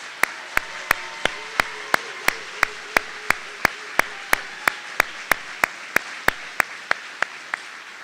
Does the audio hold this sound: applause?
yes